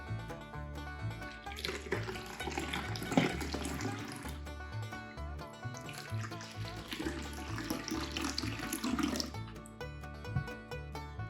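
Water pours into camp cups for shaving, two soft, steady streams several seconds long, fairly faint and close, at a cottage.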